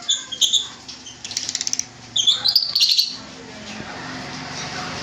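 Lutino cockatiels and other caged pet birds chirp and squawk close by, with bursts of rapid wing flapping against the cages before the sound settles into a quieter hum.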